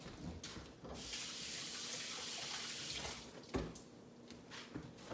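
A peeled hard-boiled egg is rinsed under a running kitchen tap, a steady close hiss of water with brief splashes and a knock near the end.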